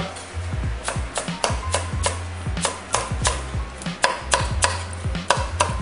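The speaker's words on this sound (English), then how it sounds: "Get our herbs cut." Fresh herbs, including rosemary, chopped with a knife on a cutting board while preparing a Thanksgiving turkey: a steady series of sharp, close knife taps in an uneven rhythm, with no talking.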